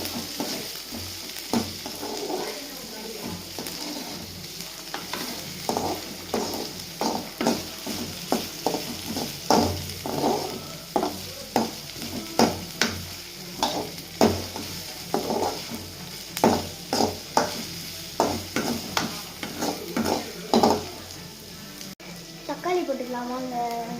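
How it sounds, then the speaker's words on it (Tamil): Onion sautés in hot oil with mustard seeds in a pan, a steady close sizzle broken by regular scraping stirs of a spoon throughout, with a voice speaking now and then. "நெக்ஸ்ட்டு ஆனியன் போட்டுக்கலாம். வாங்க, போட்டாச்சு. வதக்கிக்கலாம்."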